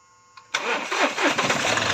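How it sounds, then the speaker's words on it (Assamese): A Mahindra Bolero Power Plus with a fuel control unit fault cranks briefly on its self-starter, then catches and settles into a loud, close, steady idle. "এতিয়া গাড়ী ষ্টাৰ্ট হ'ব চলো সেলফ লগা"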